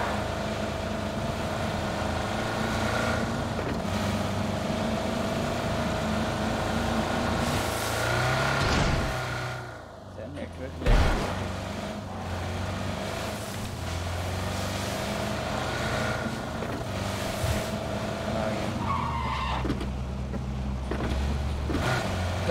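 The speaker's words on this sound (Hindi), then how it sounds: "हमारे आगे गाड़ी जा रही है" A car driving on a road, heard from inside a following vehicle: a steady, loud engine and road rumble that continues throughout, with a brief dip and a thump midway.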